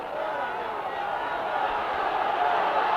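The crowd at a 1968 Argentina v Wales rugby match roars in a steady, dense wash of distant shouting that holds level throughout, with no clear pauses.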